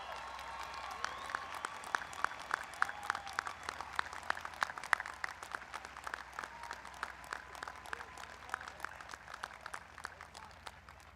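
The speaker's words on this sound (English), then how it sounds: "Let's give them a round of applause." Sustained applause from a graduation crowd in the stands, honoring graduates who are enlisting in the military; dense, steady clapping with crisp individual claps over a low hum, lasting throughout.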